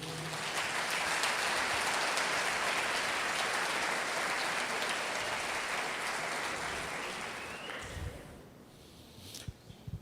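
A church congregation claps in steady, dense applause during a worship service, which gradually tapers off and fades to scattered claps near the end.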